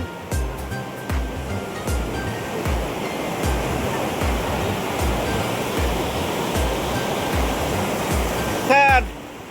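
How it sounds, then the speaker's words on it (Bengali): Loud, steady surf of sea waves crashing on Tajpur beach, a continuous roar with rolling low surges throughout and a brief whistle-like sound near the end. "অসম্ভব ঢেউ"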